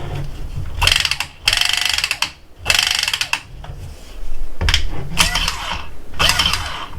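A Milwaukee M12 copper cutter 2471 rotates in several short bursts of whirring, ratcheting gear noise, separated by brief pauses, loud and close.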